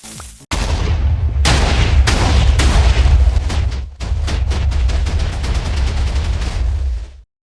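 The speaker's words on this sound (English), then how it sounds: "I have placed a 16 by 16 by 16 block of TNT in the city center and we are going to detonate it." A huge 16-by-16-by-16 block of TNT detonates in the centre of a video game city, setting off a dense, loud rolling barrage of booming blasts that briefly dips, surges again and then cuts off.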